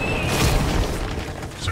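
An explosion booms during a Borderlands game session, a single loud low blast with crashing debris that fades over a second or so.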